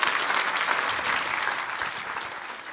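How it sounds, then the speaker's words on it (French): Congregation clapping at a baptism celebration service, a steady, fairly loud burst of many hands applauding together with no voices. "Oui, on peut l'applaudir."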